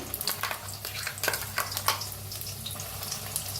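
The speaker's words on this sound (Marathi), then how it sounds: "आता या कढाईत तेल कढाई चांगली तापले एक मोठा चमच्याभर तेल तापले आता आपण मसाला बनवून घेतलेला पेस्ट घालूया" Masala paste frying in hot oil in a kadhai, a steady close sizzle with bursts of crackle and occasional stirring scrapes, no talking.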